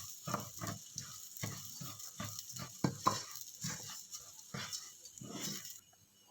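Rice being stirred in a pan with a tablespoon of cooking oil while making Filipino java rice, a run of repeated scraping strokes with a faint sizzle underneath, close and fairly quiet.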